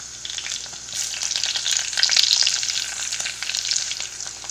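Ginger, garlic and green chili frying in oil for a Kerala sardine curry, a steady close sizzle with crackling swells and occasional stirring, no voices.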